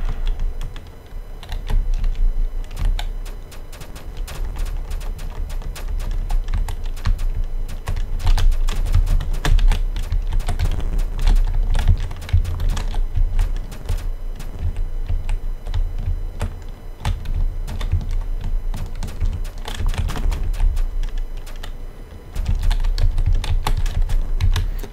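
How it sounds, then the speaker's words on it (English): Rapid, steady keyboard typing and spacebar presses from a player attacking slugs with a sword in the 8BitMMO game, a dense stream of close clicks over a low game hum, with no talk. "Use your spacebar to attack them with your sword."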